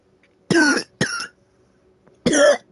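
Three harsh coughs close to the microphone, two in quick succession and then one more after a short pause, with near silence around them.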